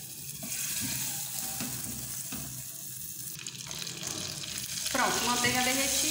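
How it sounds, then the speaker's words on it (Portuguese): A spoonful of margarine melts and sizzles in a pan, making a steady soft crackle with a faint watery hiss that swells near the end. "Aqui eu tenho uma colherzinha de margarina. Vou colocar aqui, deixar derreter bem."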